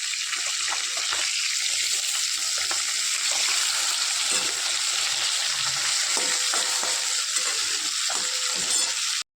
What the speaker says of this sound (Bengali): তেল গরম হয়ে গেছে মাছগুলো এবার দিয়ে দিই